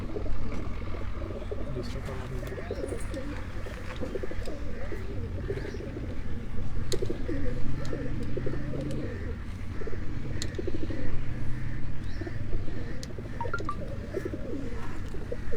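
Soft, low cooing of pigeons repeating over a continuous murmur of background noise and faint chirps.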